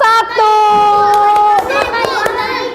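Children in a fourth-grade classroom clap a quick, uneven rhythm for a group while a high voice chants or sings over them, close by and fairly loud.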